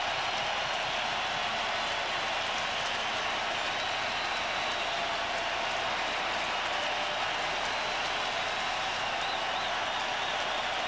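A packed baseball stadium crowd at a 2004 NLDS playoff game, Astros against Braves, gives off a loud, steady, broad roar of cheering that holds without letup for about eleven seconds.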